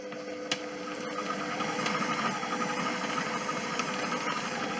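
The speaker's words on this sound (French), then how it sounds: "mixer 1 minute vitesse 4" A kitchen mixer blends courgette soup at speed 4, giving a steady mid-pitched motor whir with a faint rattling texture that holds constant throughout.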